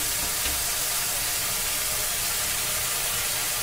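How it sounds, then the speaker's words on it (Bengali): Potato pieces frying in hot oil in a home kitchen, giving a steady, loud, broadband sizzle and hiss that holds unchanged throughout with no talk over it. "সমস্ত আলুটা তেলে আমি দিয়ে দিয়েছি"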